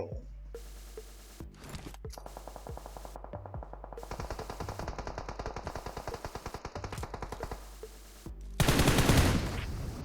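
Rapid automatic gunfire from PUBG Mobile rattles in quick, evenly spaced bursts for several seconds, broken by short gaps, then ends in a louder, harsh blast near the end.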